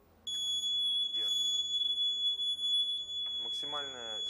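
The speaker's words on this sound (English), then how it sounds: "The buzzers produce a continuous sound at a frequency of" Sonitron SC series low-voltage buzzer sounding a steady continuous high-pitched tone, with a second constant tone above it, under a narrating voice.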